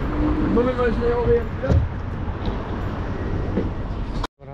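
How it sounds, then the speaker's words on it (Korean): Steady rumble of a Vienna tram in motion, with low rolling noise and occasional clanks, faint voices underneath, ending in a brief dropout. "이제 다시 트램을 타고 시내로 갑니다."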